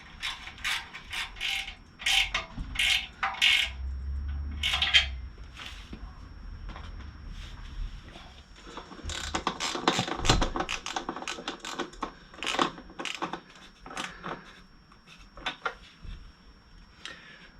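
A hand ratchet tightens the bolts of a Zard silencer on a Moto Guzzi V85 TT. Sharp clicking bursts repeat in quick runs with pauses, close and fairly loud.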